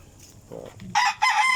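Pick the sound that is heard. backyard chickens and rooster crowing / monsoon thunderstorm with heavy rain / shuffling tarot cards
backyard chickens and rooster crowing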